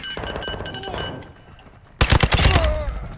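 Rapid bursts of gunfire in Call of Duty: Modern Warfare II DMZ on Ashika Island, sharp loud cracks erupting after a quieter stretch of game ambience with music tones.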